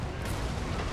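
Cannons and deck gunners firing in a Total War Warhammer II battle, a dense, continuous rumbling barrage of booms with no pauses, heard without talk.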